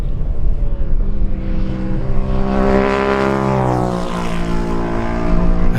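Kawasaki lightweight race motorcycles on a road-racing circuit scream past close by, loud high-revving engines rising and falling in pitch as they pass one after another.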